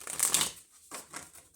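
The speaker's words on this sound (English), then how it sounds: "One more shuffle." Tarot cards being shuffled by hand at close range, with a short riffling burst followed by a couple of softer shuffling flicks.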